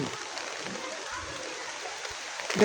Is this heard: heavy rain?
yes